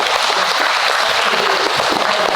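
An audience at a parish-wide public meeting claps together, a dense, steady burst of applause lasting a couple of seconds.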